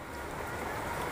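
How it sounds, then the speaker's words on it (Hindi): Heavy rain falls with gusting wind in a steady, dense hiss with no pauses or voices. "इतना बारिश तेज हो गया दोस्तों, देख सकते हैं वाह, हवा पानी दोनों है।"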